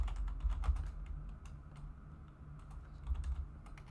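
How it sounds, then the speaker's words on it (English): Rapid, uneven clicking of keys on a computer keyboard, close and fairly quiet over a low hum, continuing steadily with no voices. "Just typing average playtime."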